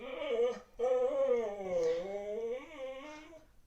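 A dog whimpers and yips in a long, wavering, high-pitched whine that rises and falls in pitch, close by, with a brief break before it continues and fades.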